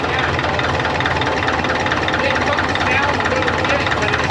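A Caterpillar D4 dozer diesel engine idles with a steady, loud, rumbling knock that fills the whole stretch, close by, while someone talks over it.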